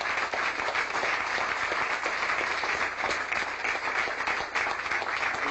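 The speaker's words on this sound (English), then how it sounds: "let us stand and give this great man a round of applause" A congregation at a church gathering claps in a sustained, dense round of applause from start to finish, moderately loud and unbroken, with no voice above it.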